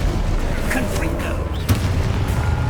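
Blast spells boom in rapid succession during combat in the video game Hogwarts Legacy, dense loud explosive thuds layered under a voice shouting spell names.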